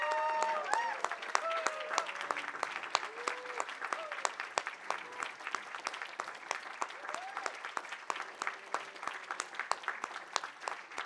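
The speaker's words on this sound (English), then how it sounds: "Let's give you guys a last round of applause." An audience applauds at the close of a fellowship reading event, a sustained burst of clapping from a modest crowd that stays fairly even and slowly thins, moderately close.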